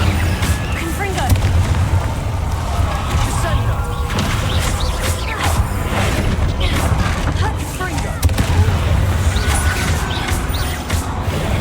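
Blasting spells cast in a Hogwarts Legacy fight, with repeated booming bursts and mechanical clatter over steady loud combat noise, and voices talking throughout.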